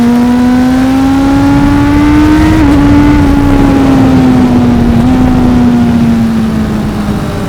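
A 2025 Honda CB1000 Hornet SP pulls hard under acceleration, its loud, steady engine drone rising in pitch and dipping briefly at each gear shift, heard close and continuous.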